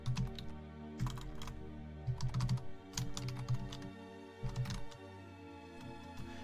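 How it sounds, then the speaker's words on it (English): Steady typing on a membrane switch computer keyboard during game development work, with soft, close keystrokes in uneven bursts and short pauses between clusters. "I have a membrane switch keyboard."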